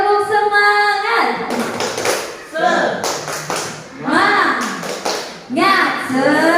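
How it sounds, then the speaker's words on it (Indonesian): Group of mothers and children performing a rhythmic tepuk semangat chant, clapping in patterned bursts mixed with loud chanted voices, fairly close and energetic. "Coba kita tepuk semangat dulu."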